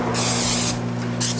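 Vegetable oil cooking spray, like Pam, hissing into a sand-cast worm mold in two bursts: a long close spray, then a shorter one after a pause, over a low steady hum.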